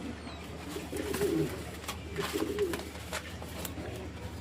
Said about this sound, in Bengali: এই দেখো পায়রা দুটো